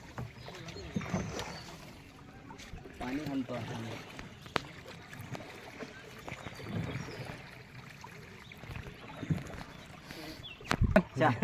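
A small boat moves on a river in Rajapur, Konkan, with soft water sloshing and lapping against the hull under scattered knocks, while people talk nearby throughout.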